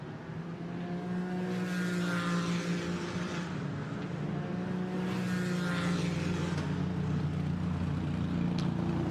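A GT4 race car at Spa rolls into the pit lane during free practice, its engine a steady, fairly loud drone with a harmonic whine that stays even throughout and never climbs to full-throttle revs.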